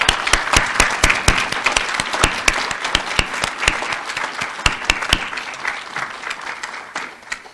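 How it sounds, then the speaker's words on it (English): A graduation ceremony audience gives a round of applause, loud crisp claps from nearby hands standing out over a steady crowd clapping that slowly tapers off. "join in a round of applause for everyone who has supported these students in their success"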